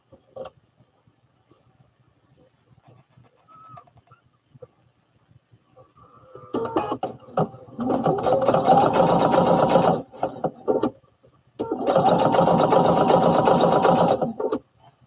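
A sewing machine runs a heavy-duty double straight stitch along an overalls crotch seam, sounding in two sustained whirring bursts after a quiet start with small handling noises.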